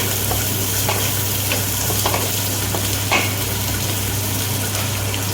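Keerai greens with rock salt sauté in a pan, a steady loud sizzle under scraping stirs, with a few sharper clinks of the utensil against the pan.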